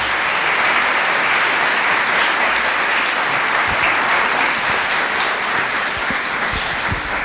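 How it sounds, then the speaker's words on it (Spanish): A dense crowd claps steadily and loudly, sustained applause filling the room without letting up. "Les voy a pedir simplemente que le demos un fuerte aplauso para recibirlo."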